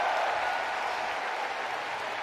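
Spectators at a 2023 NCAA volleyball match between Wisconsin and Jackson State cheer and applaud as a Badgers player steps up to serve, a steady, loud wash of crowd noise without a break.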